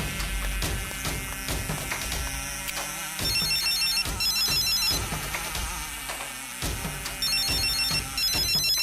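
A phone ringtone plays for an incoming call, a looping electronic melody that repeats several times, loud and close over a faint hum, with no talk.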